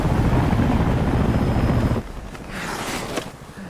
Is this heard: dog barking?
no